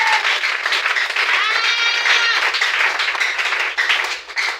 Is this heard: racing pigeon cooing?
no